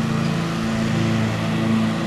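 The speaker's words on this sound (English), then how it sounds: "Lawnmowers going around." Lawnmowers running outdoors on a bright spring day, a steady continuous engine drone with a low hum holding level throughout, no talk.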